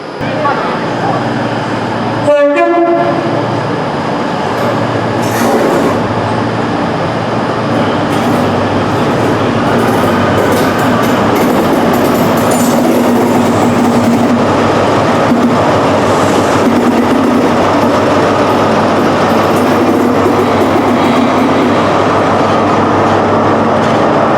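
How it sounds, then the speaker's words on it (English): A CrossCountry Class 43 HST pulls into a platform at Birmingham New Street, its rumble and rail noise running steadily through the whole stretch, with a brief squeal and a few sharp tones near the start amid station ambience. "So the HST is now finally on the platform."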